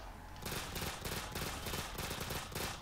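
Rapid automatic gunfire from Black Ops 3 custom zombies gameplay, a loud, dense stream of shots in steady bursts running throughout.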